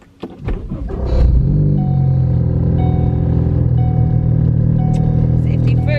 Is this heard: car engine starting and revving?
yes